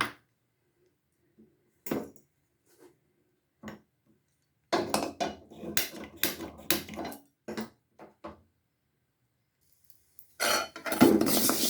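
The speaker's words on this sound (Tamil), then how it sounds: "இப்போ லேசாக பச்சை பருப்பு லேசாக முதல்ல போட்டு வறுத்துக்கிட்டோம்" Whole green gram dal with its skins on is dry-roasted in a pan, heard as scattered clinks of a spoon and bursts of rattling, scraping grains, close and alone between quiet gaps.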